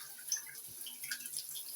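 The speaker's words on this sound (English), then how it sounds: "got water coming through there." Water runs through newly installed bathroom shower plumbing beneath a new rain shower head, a faint steady hiss and trickle with a soft knock partway through.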